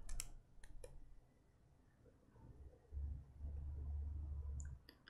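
A computer keyboard clicks as a terminal command is typed: a few quick, quiet keystrokes at the start, a soft low hum, then more light clicks near the end.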